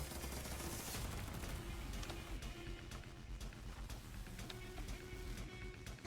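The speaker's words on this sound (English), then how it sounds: "The turrets are getting hits, the nose cannon is doing some damage at least" Turret and nose cannon fire from a light bomber in the game From the Depths, a dense, continuous rattle of gunfire with sharp cracks running throughout at steady loudness.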